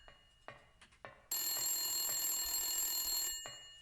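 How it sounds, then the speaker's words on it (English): A telephone in the video game Silent Hill 1 rings with a bright, sustained electronic trill after a few soft clicks and knocks, holding steady for about two seconds before ending, with no talk. "The phone is ringing."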